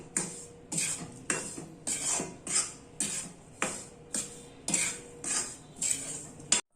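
A metal spoon scraping and knocking through flour and ghee in a pan, a steady rhythm of about ten evenly spaced strokes, each with a bright clink, close and clear with no talking.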